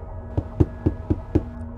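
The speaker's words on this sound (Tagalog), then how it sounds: "Sakto paalis pa lang ako para pumasok nang kumatok ang kartero." A postman knocks on a house door: five firm, evenly spaced knocks in quick succession, close and clear with no talking.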